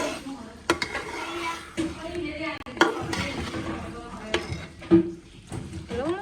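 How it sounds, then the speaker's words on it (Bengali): Meat pieces going into a pot of sautéed spice paste in a home kitchen, giving a soft sizzle and stirring with occasional clinks of utensil against pot, while a voice speaks over it. "এই যে আমি এখন কষানো মশলাটাতে মাংসগুলো দিয়ে দিচ্ছি"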